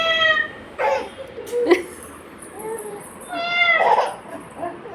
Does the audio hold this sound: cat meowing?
yes